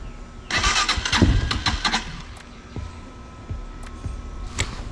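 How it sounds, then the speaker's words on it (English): Dirt bike or quad engine turning over on electric start with no choke: a loud, close burst of starter cranking and sputtering that fades, followed by scattered clicks and knocks. "Electric start."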